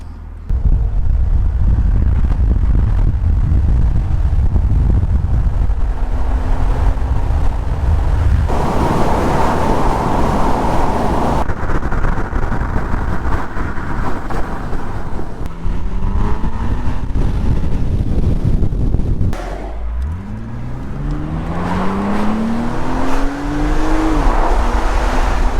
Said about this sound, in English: First ride out in the 3 litre Z3. I've got some serious speed action going on.